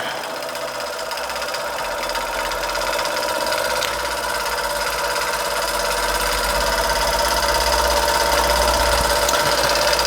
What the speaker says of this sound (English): Little German vertical, we'll call it a Bing, is running a treat.